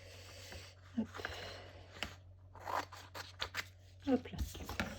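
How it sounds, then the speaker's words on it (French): Scissors snip through paper while a floral double-frame greeting card is being made, giving a few short, crisp cuts spaced irregularly at close range, with soft handling rustles between them. "Donc, je vais venir découper ce qu'il me faut."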